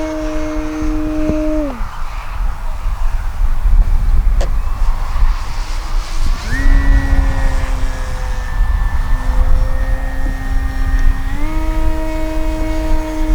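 Electric motor whine of an E-flite Carbon Z Cessna 150T RC airplane in flight, pitch sliding down, dropping away, then rising again as the throttle changes, moderately loud over outdoor background noise.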